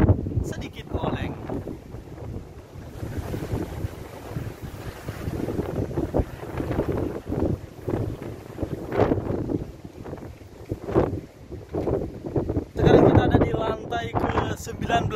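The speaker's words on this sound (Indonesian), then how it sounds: "Soalnya anginnya kencang banget dan kita berada di tengah samudra" Strong wind gusting across an upper deck of a cruise ship at night in the middle of the Atlantic Ocean, with roaring buffeting against the microphone and someone talking throughout.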